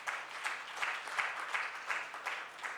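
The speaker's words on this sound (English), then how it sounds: "Please give a big round of applause." An audience at a book launch applauds steadily at moderate volume, a soft blur of many hands with regular, rhythmic swells as if some clap in unison.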